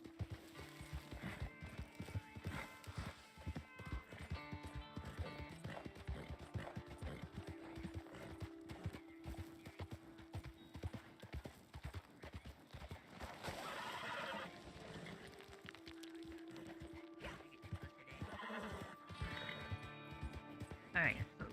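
A horse in the Red Dead Online game clip-clops along with hooves beating in a rapid rhythm and lets out a couple of whinnies, while people talk over much of it.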